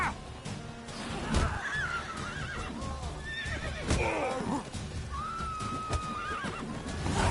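Horse in The Witcher 3 whinnying several times over clip-clop hooves and scuffling, with another call near the end; close and fairly loud.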